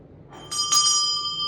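A bell is struck twice in quick succession as a tone for throat chakra activation, giving a bright metallic ring with a clear sustained overtone that rings on close and clear, with no talking over it.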